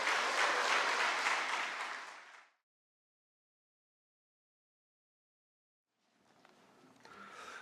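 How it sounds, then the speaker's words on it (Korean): A church congregation claps together at a pastor's installation service, giving a loud burst of applause that fades out after about two seconds, then silence, then a quieter return of applause and room noise. "기원하면서 박수를 보냅니다."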